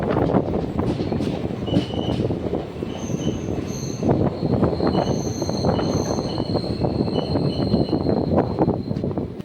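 Train 16851 from Chennai to Rameshwaram of Southern Railway runs on the rails, close and loud, with continuous rumble, rattling wheels and repeated high wheel squeals throughout.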